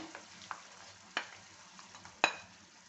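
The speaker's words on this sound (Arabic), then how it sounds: "نحط الدجاج ديالي معاه" Chicken added to onions frying in a pan, a quiet bed of sizzle broken by a few sharp clattering stirs and scrapes, close and with no talk.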